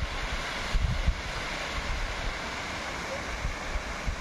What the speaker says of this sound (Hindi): बड़ा मस्त वाटरफॉल है यार, आपको पास में जाके दिखाता हूँ भाई